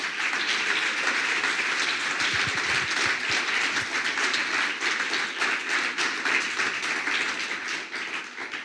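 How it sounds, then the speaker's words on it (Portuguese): A church congregation claps together during a sermon, a loud, continuous roar of many hands that holds steady for several seconds before easing slightly at the close. "Aplauda Jesus."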